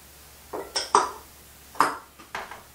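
Boiled potatoes are mashed with butter and milk in a metal pot, producing about five separate clanks and clinks of the masher striking the pot, spaced irregularly with quiet gaps and no talking.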